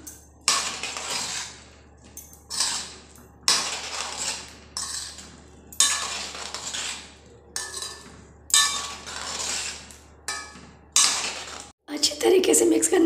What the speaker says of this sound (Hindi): इसे अच्छी तरीके से मिक्स कर लेंगे हम।